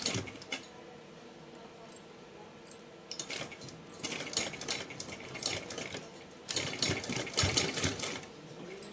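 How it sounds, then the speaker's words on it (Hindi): A sewing machine stitches a folded fabric edge for a Laddu Gopal dress in uneven bursts of rapid clatter, starting and stopping, louder in the second half, close by with no speech. "सिलाई लगाएंगे"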